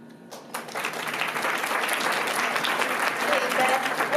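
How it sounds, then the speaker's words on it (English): Applause rises from a crowd at a Larimer Square community event, starting a half second in and swelling into a steady, full clapping that continues to the end. "And I applaud all of you."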